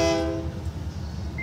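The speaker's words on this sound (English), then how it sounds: "we got a train on the track" Union Pacific 6850 freight train passing through a crossing in Effingham, Illinois, its horn fading out at the start and giving way to a steady low rumble of cars rolling on the track.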